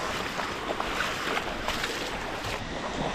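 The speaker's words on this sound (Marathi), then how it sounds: "हे बघा इकडून ओढा वाहतोय, या बाजूने पाणी आलेलं आहे" Broadband rushing water from a stream flowing past in the dark, where villagers wade across on the way to catch crabs in Maval taluka. It forms a steady, fairly loud wash with faint wind buffeting and no speech.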